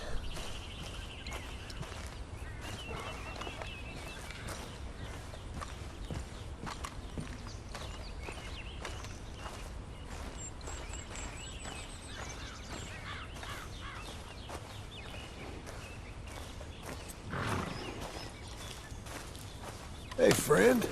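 Horse hooves in Red Dead Redemption 2 clip-clop steadily at a walking pace through a rustling outdoor ambience, with occasional bird calls and a brief louder burst at the end.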